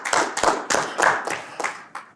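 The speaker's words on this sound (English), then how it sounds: "Let's give him a round of applause." An audience at a chairmen's conversation event claps in about seven quick, distinct bursts of applause, fairly close and with no talk.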